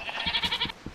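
Goats in Minecraft with the Tekkit pack give a rapid run of bleats, several short wavering cries close together, clear and fairly close.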